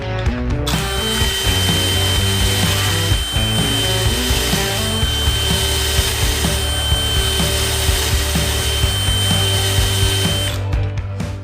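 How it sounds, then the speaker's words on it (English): A power drill whines loudly and steadily at close range, driving a Torx bit in a Blum concealed hinge jig, its motor pitch wavering slightly for several seconds before stopping. "operating a Torx head bit with your drill and drilling right down through"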